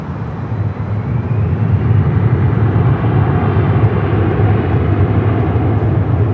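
A SkyWest regional airliner takes off from runway 24 left at Los Angeles International, a continuous rumbling engine roar that swells slightly and then holds steady at moderate distance.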